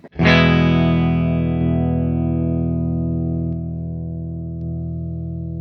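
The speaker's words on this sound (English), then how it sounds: "I'll just hit a chord and let it ring out for a second" A single distorted electric guitar chord struck once through an amp, ringing out loud and sustained with a slow decay.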